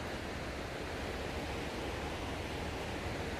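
Water rushes steadily beneath the Emerts Cove covered bridge in the Great Smoky Mountains of Tennessee, a constant, even stream noise with no break and no voices.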